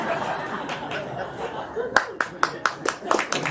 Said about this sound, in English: I don't think you're supposed to clap.